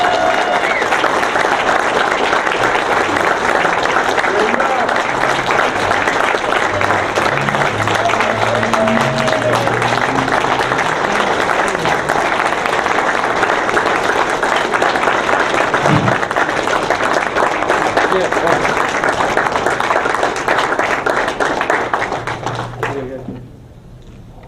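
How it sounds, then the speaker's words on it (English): A Hall of Fame induction audience at a sports museum gives sustained, dense applause that fills the room steadily, then cuts off abruptly near the end. "let's have a nice round of applause for this year's inductee in the All Sports Hall of Fame, Jim McCormick."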